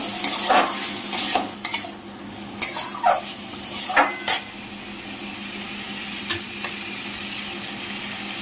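Potatoes being stir-fried with spices in a pan, with a close bright sizzle and a run of quick scraping stirs and spatula clinks that ease into a steadier frying hiss with no voices.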